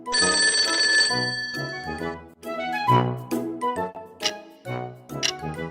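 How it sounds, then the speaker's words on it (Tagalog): A telephone rings loudly and close with a bright, steady bell tone, followed by a series of short clicking, ticking rings; no voices. "Tunog ng telepono. Kring,"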